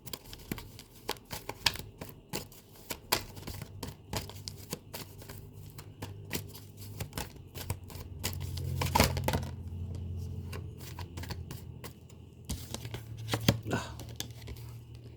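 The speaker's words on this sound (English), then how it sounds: "as I was shuffling the cards" Repeated soft riffles and snaps of cards being shuffled, close and fairly quiet, with faint low voice or hum in the background.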